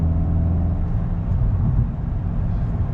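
Steady low engine rumble inside the cabin of a Volkswagen GTI on the road, a constant droning hum filling the car without any talk.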